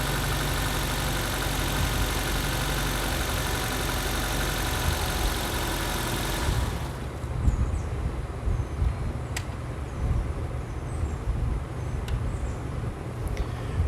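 A Nissan Sentra's engine idles with a steady hum and rattle, then cuts off partway through, leaving quieter low rumbling and a few light clicks.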